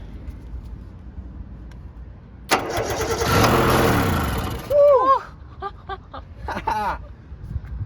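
A small Subaru mini truck engine cranks with a whirring starter, catches and revs loudly, then settles while a few short chirpy sounds follow.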